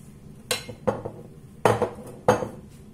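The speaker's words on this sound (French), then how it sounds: "Maintenant, vous allez le verser dans votre moule." A saucepan of caramel clinks sharply against a mould as the caramel is poured and swirled for a Biscoflan. Four bright metallic knocks come close and clear, spaced irregularly over a quiet kitchen background.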